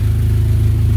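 A 1998 Eclipse GS 2.4 Spyder with a new cat-back exhaust idles close by, giving a loud, steady low-pitched rumble with an even pulsing rhythm and no talk.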